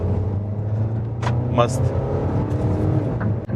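A used car running on CNG accelerates steadily while being driven, its engine drone continuous and fairly loud from inside the cabin, with someone speaking briefly over it.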